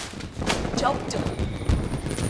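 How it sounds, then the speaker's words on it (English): Cartoon fireworks on Bonfire Night in a children's show, several crackling bursts and pops in quick succession, with one whistling streak rising among them, loud and close. "Well, hey, it's the fireworks. They've started."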